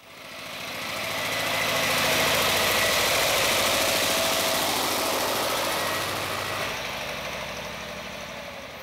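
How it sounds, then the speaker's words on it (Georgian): A Belarus tractor engine runs steadily close by, a loud continuous knocking diesel chug that swells over the first couple of seconds and eases slightly toward the end, with no voices. "ტრაქტორი მისცეს სოფელს, მაგრამ არაფერს არ ვარგა. ცარიელი ტრაქტორი რაც მინდაგაც ბელარუსი მისცეს"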